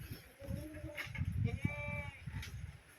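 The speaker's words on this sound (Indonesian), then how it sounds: "Ini kambingnya, kambing apa, domba, ada dombanya, ada kambing Jawa, ada etawa tuh, lihat." A single drawn-out bleat rises from a pen of sheep and Javanese and Etawa goats at a village farm, moderately close, with a faint low rumble beneath.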